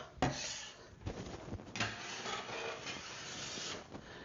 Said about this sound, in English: This is a bench scraper. What you do is just move all the wax.